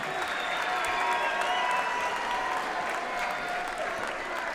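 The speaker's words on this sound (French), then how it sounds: "On peut les applaudir très fort." An audience at a French training-course awards ceremony applauds steadily, a dense, continuous wash of many hands clapping at full strength throughout.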